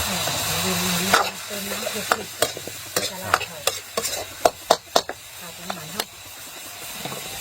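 Stir-frying in a wok with water added gives a steady steamy hiss, broken by sharp metallic scrapes and taps of the spatula in an irregular rhythm, close and moderately loud.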